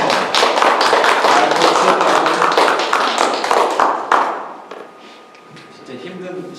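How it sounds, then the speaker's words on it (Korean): A church congregation claps together in a steady, dense burst that fills the room, then the clapping thins out and fades, leaving quieter room sound with a few voices near the end. "박수 한 번씩 보내드릴까요?"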